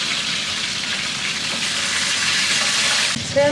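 Rohu fish frying in oil in a pan: a dense, steady close sizzle with a faint clink near the end.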